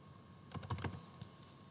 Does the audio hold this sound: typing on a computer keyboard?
yes